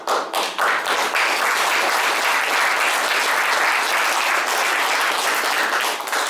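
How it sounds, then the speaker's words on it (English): Audience applause from a large crowd at a political speech, dense continuous clapping that starts in a few distinct claps and swells into a steady, moderately loud roar lasting throughout. "Thank you very much for the applaud,"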